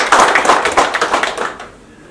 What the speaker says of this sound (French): j'aimerais que vous m'aidiez à l'applaudir